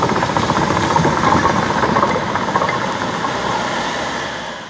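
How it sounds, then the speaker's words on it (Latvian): Car rolling over uneven road slabs, giving a loud, continuous rumble with rattling, knocking texture throughout, gradually fading toward the end, with no talk. "skaņas, kas rodas braucot pāri ar automašīnu, liecina, ka plāksnes nav līdzenas"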